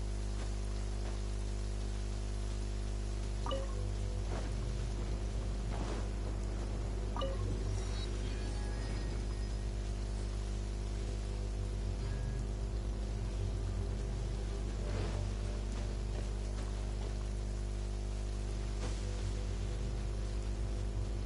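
Steady rain patters and hisses across a surface throughout in the video game Genshin Impact, an even wash of drops with a few brief ticks and no talking.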